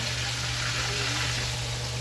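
A large milkfish (bangus) frying in a pan of hot oil, giving a steady, even sizzle and crackle with a low hum underneath, continuous and fairly quiet throughout.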